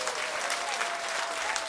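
An audience applauds a band at a Slovak concert, a steady, even patter of clapping that lasts through the whole short moment.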